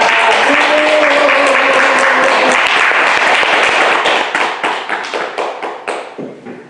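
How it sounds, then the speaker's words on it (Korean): A congregation at a Won Buddhist temple applauds to welcome a speaker, loud sustained clapping that thins into a few scattered, fading claps at the end, with a brief voice tone faintly beneath at the start. "큰 박수로 모시겠습니다"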